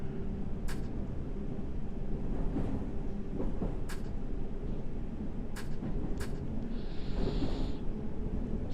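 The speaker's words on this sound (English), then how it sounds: "We've got Circle Line train obviously waiting outside." Circle Line subway train in the World of Subways game, a continuous low rumble and hum of the train with several short, sharp clicks and a brief hiss toward the end.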